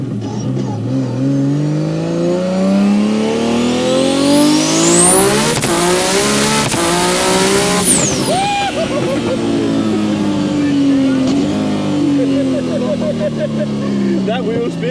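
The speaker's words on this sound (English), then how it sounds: "That wheel spin coming to the third." A 1500 hp R32 GTR with an RB28 engine and sequential gearbox accelerates hard with wheel spin: a loud, rising engine scream through shifts to very high revs, with tyre squeal, then a falling drone. People talk over it.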